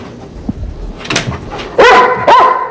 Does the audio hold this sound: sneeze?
no